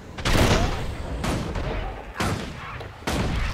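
Bursts of gunfire from a ranged skill shot in the fantasy game Guild Wars 2, arriving as several loud, dense volleys with short gaps between them.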